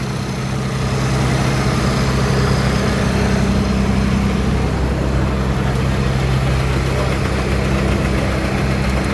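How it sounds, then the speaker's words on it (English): An International 686 tractor engine idles steadily up close, a constant low chugging rumble with a dense mechanical rattle throughout. "here we have an International 686 tractor, and it's running, purring like a kitten."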